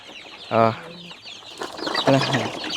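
Four-week-old chickens cluck and squawk nearby in short bursts on a backyard farm, several birds calling over a busy farmyard background with a voice faintly underneath.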